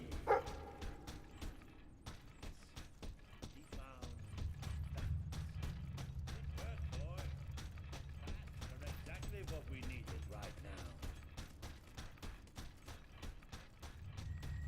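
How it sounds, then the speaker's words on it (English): A dog barks in the Fable III video game, a few short yips and barks heard faintly amid clanking, creaking mechanical game sounds and a low rumble, with voices speaking at times. "Sounds like the dog's found something."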